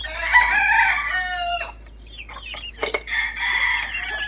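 Sweater gamefowl cockerel in a backyard, crowing twice with long harmonic calls separated by a short gap of scattered clucks and clicks, close and clear with no talk.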